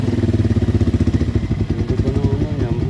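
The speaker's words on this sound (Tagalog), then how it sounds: "Ganda pa ng makina niya. Tahimik pa." Motorcycle engine about five years old, quiet and well kept, idling with a steady rapid thumping pulse close by.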